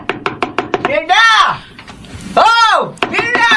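Sharp knocks on a door in a radio drama, a quick run of hard raps at the start, broken up by a voice calling out, with more knocking between the shouts.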